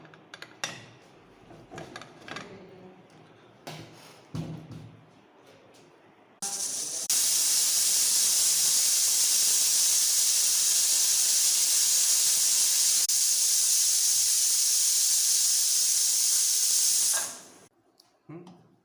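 A pressure cooker making vegetable biryani lets off a loud, steady hiss of steam for about ten seconds before it abruptly stops, preceded by quieter clatter and kitchen sounds.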